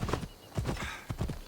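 A horse gallops in the Assassin's Creed Odyssey video game, with rapid rhythmic clip-clop hoofbeats and a whinny, close and steady across a second and a half.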